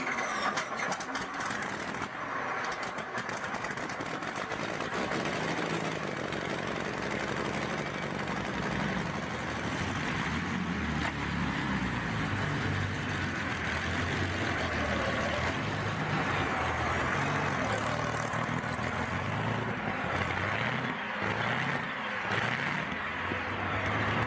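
Merlin V12 engine in a 1955 Chevy cranking and catching, then a deep, loud, rumbling idle that rolls on steadily, with no talking.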